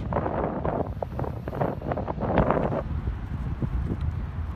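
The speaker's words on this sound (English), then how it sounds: "not letting this wind stop us, utilizing that wind noise to go deeper and deeper within" Wind blows outdoors straight into a microphone, making loud, uneven low buffeting and rumbling gusts that last through the whole passage, with no speech heard.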